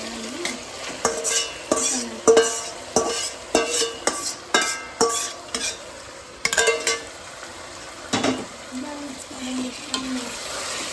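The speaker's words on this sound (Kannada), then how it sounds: "ಸ್ವಲ್ಪ ಹೊತ್ತು ಫ್ರೈ ಆದ್ಮೇಲೆ ರುಬ್ಬಿದ ಮಸಾಲೆ ಹಾಕ್ಕೊಂಡ್ವಿ" Tomato and ground masala frying in oil in a pan for biryani, stirred with a utensil in repeated scraping strokes over a steady close sizzle.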